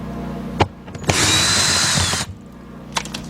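A power driver unscrews a T20 Torx screw from the left headlight assembly of a 2007 Volkswagen Passat 2.0, one close whirring burst of about a second framed by a few small clicks and taps.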